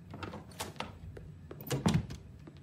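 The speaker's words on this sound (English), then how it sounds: "They probably heard that door." A door in The Walking Dead video game, a short creak and dull thunk of it moving and shutting, quiet and close, followed by a heavier knock near the end.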